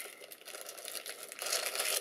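Plastic bags crinkle and rustle nearby as they are handled, pulled from a Galax GTX 980 Hall Of Fame graphics card box, with a steady crackling texture that grows louder and busier toward the end.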